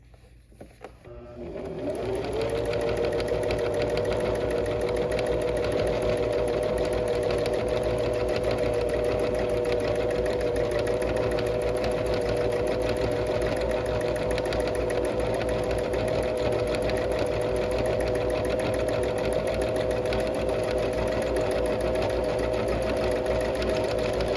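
A sewing machine runs a free-motion quilting stitch while the fabric is moved quickly in big motions. After a brief start it settles into a loud, steady, continuous whir that lasts the whole stretch without pause.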